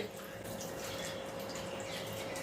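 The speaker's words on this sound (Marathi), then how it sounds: "आता हे फ्रीजमधलं पाणी आहे ते गार पाणी मी त्यामध्ये घालून देते" Cold water from the fridge pours steadily onto washed potato slices in a bowl, a continuous close splashing wash of liquid with no talking.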